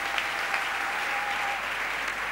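A church congregation applauds during a French sermon, dense steady clapping from a large crowd lasting a couple of seconds without pause.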